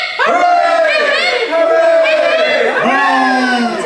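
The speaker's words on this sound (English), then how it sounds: "We have 3 cheers for the new princess!" A crowd at a ukulele gig calling out cheers for a new princess, several loud voices shouting together in rising hoorays close by, each cheer swelling and falling.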